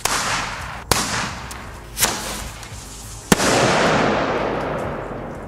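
Komet firework set going off outdoors on New Year's Eve: three sharp, loud firecracker bangs spaced about a second apart, each trailing into a crackling hiss, the last followed by a sustained rushing burn.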